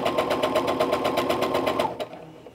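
A sewing machine runs steadily, stitching the seam of a child's fabric face mask with a fast, even mechanical rhythm, close and loud for about two seconds before stopping.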